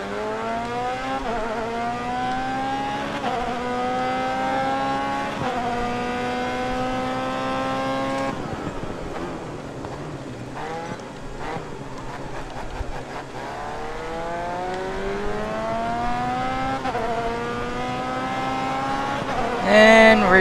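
An open-wheel race car engine in the Grid Autosport racing game revs loudly through repeated rising sweeps with gear shifts and brief lifts off the throttle, continuous and close, with faint tyre squeal near the end.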